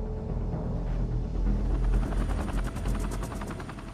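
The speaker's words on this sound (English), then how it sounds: "Chinook helicopters are drafted in to dump water from the air." Chinook helicopters flying over to dump water on an overheating nuclear plant, a loud, steady rotor roar with rapid rhythmic blade chopping that grows more pronounced toward the end.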